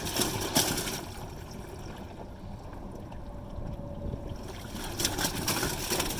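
Maytag Neptune MAH5500BWW front-loading washing machine spraying and sloshing water inside its drum, a steady wet splashing hiss, fairly quiet and close, with brief louder surges near the start and end.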